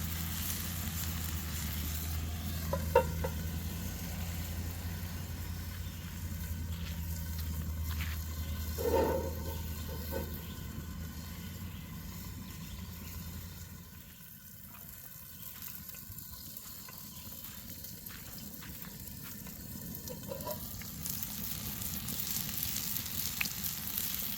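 Hamburger patties sizzle in a hot pan over a campfire outdoors, a steady close frying hiss with occasional pops, a low rumble underneath easing off partway through.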